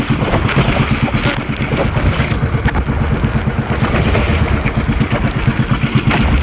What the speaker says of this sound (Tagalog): malakas yung hangin, malaki ang alon